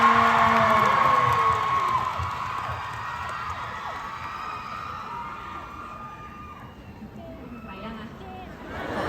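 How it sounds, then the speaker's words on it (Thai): A concert crowd screams and cheers in a loud, sustained roar that gradually eases, with high shrieks and whoops over a dense babble of voices, swelling again at the very end. "ขอเสียงกรี๊ดดังๆ"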